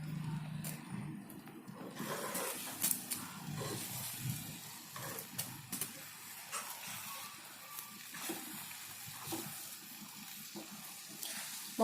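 Water heating in a pot on a gas stove, a steady bubbling and rushing wash that holds at a moderate level throughout, with small irregular pops and splashes scattered across it and no voices.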